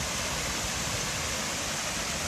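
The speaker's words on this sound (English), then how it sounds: "this overflow from the canal drops down onto the opposite side, into a waterfall" Water spills from a canal overflow as a waterfall into the River Douglas, a constant broadband rushing roar with no voices.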